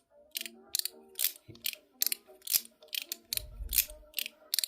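Sharp mechanical clicks from a GAO Studio Candy Rich mechanical 3-level slider, a dozen or so crisp detents in quick groups, close and clear with no talking.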